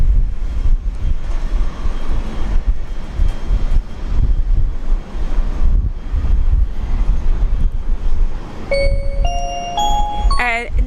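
Dash 8 turboprop taking off from a Brisbane airport runway during a severe storm, a steady loud low roar with rumbling that holds throughout, ending with a chime sequence.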